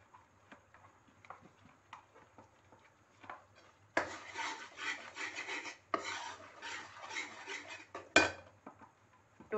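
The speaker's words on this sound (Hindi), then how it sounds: "इसको अच्छी तरह चारों तरफ मैं घी लगा लूंगी।" A serving bowl is greased with ghee for setting besan barfi: faint scattered scrapes, then a louder stretch of continuous rubbing and scraping with a sharp clink near the end.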